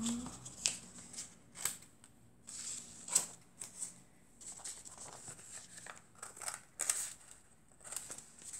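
Scissors snip the points off a handmade paper advent calendar, a series of sharp, close cuts spaced irregularly with rustling paper between them, quiet and with no one talking.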